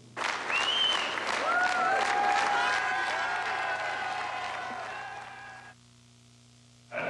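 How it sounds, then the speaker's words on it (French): Party activists at a Parti Québécois congress break into loud, sustained crowd applause with cheering voices, which tapers off before a brief pause and a fresh burst at the end. "Et ses militants l'applaudiront."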